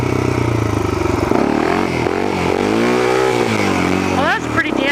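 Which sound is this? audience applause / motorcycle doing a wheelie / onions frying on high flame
motorcycle doing a wheelie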